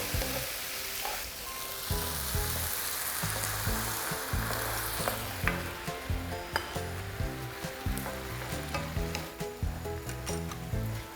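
Vegetables, shiitake mushrooms and onion sizzle and fry in a pan with oyster sauce while being stirred, giving a steady crackle broken by frequent clinks and scrapes from a utensil, close and loud with no talking.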